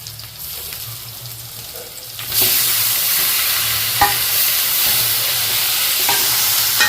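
Onion, garlic and tomato sauté in a pan while a Jaffna home dinner cooks. A quieter kitchen hum jumps into a loud, dense, continuous sizzle, broken by a few spatula knocks and stirs.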